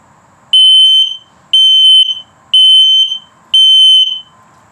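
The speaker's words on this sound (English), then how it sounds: "Carbon monoxide coming up. And then the low battery alert." An RV carbon monoxide and LP gas detector sounding four loud, piercing electronic beeps at a steady pace, each held about half a second, with faint background murmur between them.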